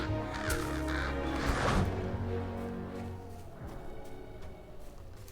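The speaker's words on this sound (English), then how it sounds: "Probably need to kill a crow." Crow caws from a video game with plague rats and wolves, sounding over a dense, steady game soundscape of music and ambience, with repeated harsh calls in the first half that fade as the mix continues.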